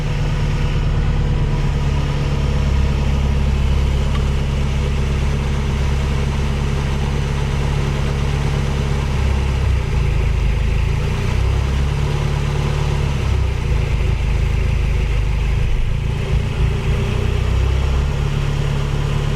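A Toyota 4AGE 20-valve VVT engine, just fitted with a new pulley, fires up and settles into a steady, even idle close by, a continuous low drone with no knocks or irregular noises and no talking throughout.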